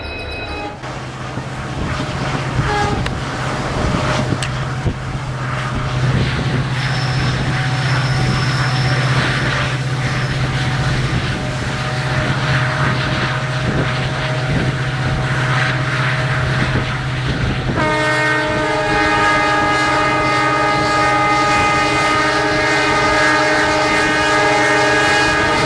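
A Bleed Blue WDG4 diesel locomotive of Indian Railways out of KGM rumbles past loud and close with a steady low engine drone, then a long multi-tone horn blast sounds near the end.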